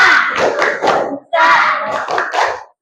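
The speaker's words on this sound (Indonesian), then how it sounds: "Ya, tepuk semangat." A school class claps a rhythmic cheer pattern together, two quick bursts of hand claps in a patterned beat, close and loud, with a short pause between them.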